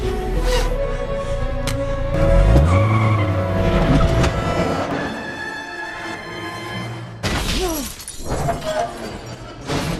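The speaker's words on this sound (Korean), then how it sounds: "헌트도 자동차를 타고 빠르게 이동합니다" A car racing at speed through a Mission Impossible chase scene, with loud roaring engine, tyre skids and crashing, shattering impacts layered with dramatic film score throughout.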